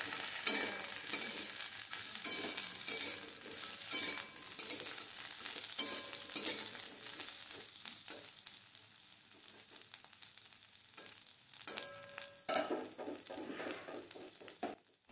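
Pumpkin, potato and drumstick pieces fry in a pan while being stirred, a steady close sizzle broken by repeated scraping stirs that carry on throughout without talk.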